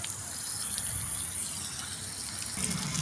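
Water gushes steadily from a container onto leafy vegetable plants in a home garden, a continuous splashing pour heard close and without talk.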